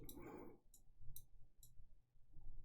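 Several short computer mouse clicks while editing in Sony Vegas, crisp and close, spaced irregularly over a low background hum with no talking.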